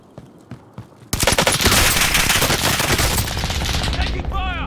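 Automatic gunfire erupts in a video game after a few sparse shots, as dense, loud continuous bursts that carry on for several seconds.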